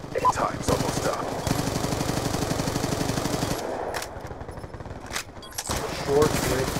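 Rapid automatic gunfire from a rifle in Black Ops II, long sustained bursts with brief gaps, loud and close, with some talk layered on top.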